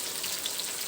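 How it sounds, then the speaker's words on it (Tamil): Potatoes fry in a little oil on a flat dosa griddle, giving a soft, steady sizzle with faint crackles, heard close and alone. "உருளைக்கிழங்கு வந்து இந்த மாதிரி தோசைக்கல்லில் போட்டு நம்ம பொரிக்கும் போது ஆயில் வந்து அதிகமாக தேவைப்படாது"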